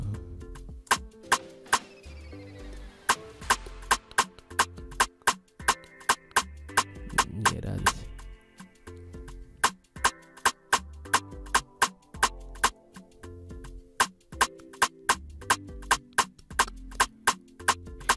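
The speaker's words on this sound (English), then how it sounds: "So I'm going to be playing a pattern for my rim shot, a drum pattern which sounds like this." A rim shot drum pattern for an Afrobeats beat at 110 BPM in FL Studio: crisp, loud percussive clicks repeat in a steady syncopated groove over layered tones, with no talking.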